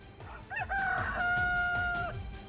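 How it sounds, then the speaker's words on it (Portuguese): A rooster seized by civil police during a roadside stop crows once, a long clear cock-a-doodle-doo rising and holding steady, fairly close over faint background noise. "Tu entende de raça de galo, Jonas Batista?"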